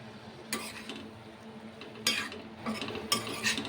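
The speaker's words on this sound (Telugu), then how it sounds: "ఇప్పుడు చామదుంపలు వేసుకుందామండి దీంట్లో పావు కిలో ఇవి చామదుంపలు" Taro roots (a quarter kilo) tipped into a pan of oily gravy, a few separate clattering knocks and scrapes of pieces and spoon over a faint sizzle, no talk.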